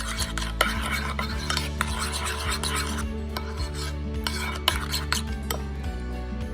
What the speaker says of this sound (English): mix that together